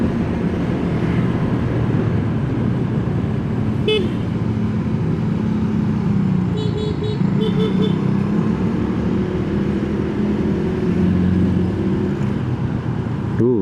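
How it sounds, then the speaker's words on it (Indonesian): Evening city traffic jam at a red light, heard from a Honda Stylo scooter, with a steady engine and road rumble and a few short car-horn toots rising over it, near and loud. "Iya, ternyata tapi macet bos."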